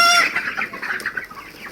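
Four-week-old broiler chickens cluck in a short, busy burst, several birds close by with overlapping calls, no talking.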